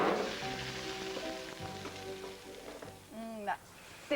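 Potatoes with olive oil and mixed herbs hit a very hot roasting tray, giving a steady crackling sizzle under a speaking voice.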